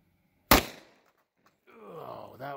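A single sharp, loud gunshot from a .40 Smith and Wesson pistol firing a Buffalo Bore round cracks close by and decays quickly, followed after a pause by voices.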